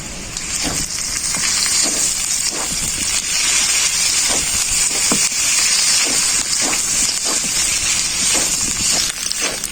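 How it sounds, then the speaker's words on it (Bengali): Onion and ginger fry in a hot pan with a loud, steady sizzling hiss and scattered crackles and pops throughout, close up and uninterrupted. "পেঁয়াজ আর আদা খুব ভালো করে ভাজা হয়ে গেছে।"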